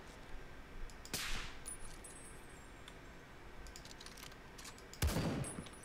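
Suppressed gunshots in Fallout New Vegas, two muffled sharp cracks spaced several seconds apart over quiet game ambience, with small clicks between them.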